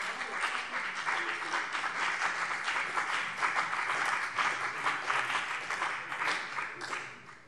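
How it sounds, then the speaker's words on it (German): Applause during a parliament plenary session on gender pay inequality, sustained broad clapping across the chamber that holds steady for several seconds before tapering off at the end. "da kann man ruhig klatschen."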